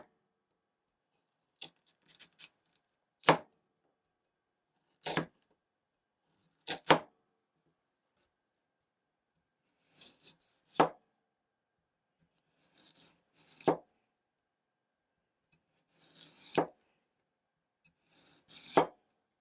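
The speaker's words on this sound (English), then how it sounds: "So these all cut through the vegetables pretty easily" Mossy Oak hand-forged culinary knives, straight out of the box, chop through carrots and other vegetables in crisp, separate strokes, single and paired cuts spaced a second or two apart against a board in a quiet room.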